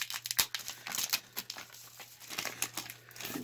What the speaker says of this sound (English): It peels right off.